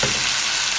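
Chicken pieces searing in a dish, a loud dense continuous sizzle up close with no voices, lasting under a second.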